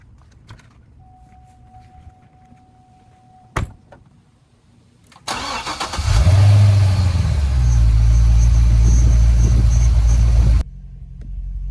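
A C6 Corvette engine cold-starts with a sharp crank, then settles into a loud, steady deep rumble with a slightly raised idle, quite close. It runs for several seconds and then cuts to quieter background sound.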